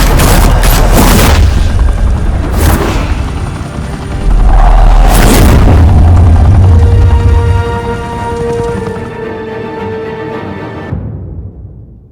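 Heavy gunfire and booming blasts in Batman The Telltale Series erupt in sharp loud bursts over a helicopter's chopping drone, then ease into a lingering rumble that cuts to silence.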